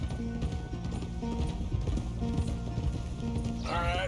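Steady clip-clop of several horses' hooves arriving at stables in the Red Dead Redemption game, with a short whinny near the end and voices talking underneath.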